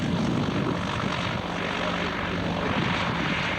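Fairey Swordfish biplane engine droning steadily at the Shoreham airshow, a continuous loud propeller roar with a hint of a commentator's voice underneath.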